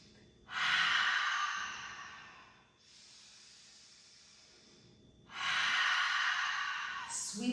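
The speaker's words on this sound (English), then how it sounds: "Make the ha breath." Long, breathy open-mouthed exhales in a yoga practice, two loud airy "ha" breaths with a quieter inhale between them, close and alone.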